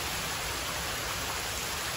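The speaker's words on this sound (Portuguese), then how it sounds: "tá chovendo demais" Heavy rain outside a home in Brazil, a dense, steady, unbroken hiss of downpour at constant loudness with no voices over it.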